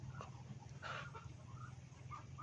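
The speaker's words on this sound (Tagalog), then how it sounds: "Ayan mga manok." Chickens cluck softly and intermittently on a small farm with ducks, the short calls faint and somewhat distant, no talking.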